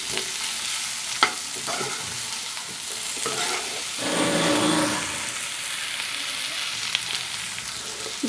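A spoon stirs chili powder through eggplant curry in a frying pan, scraping and clicking steadily over a soft sizzle, with a few sharper knocks and one louder swell of frying midway.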